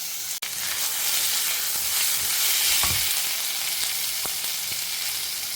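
Garlic and a single tomato sauté in hot oil in a pan for a South Indian palya, a loud steady sizzle with a few soft stirring knocks and one sharp tap early on.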